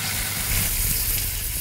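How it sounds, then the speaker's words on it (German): Venison saddle searing in butter in a pan, a steady close crackling sizzle that holds evenly throughout the short moment with no speech. "Der Rehrücken wird nun von allen Seiten kurz in der Pfanne angebraten."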